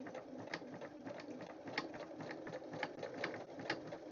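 A sewing machine runs a steady zigzag stitch over raw fabric edges of a dish-mat coin purse, its needle ticking in a quick even rhythm, soft and continuous with no speech.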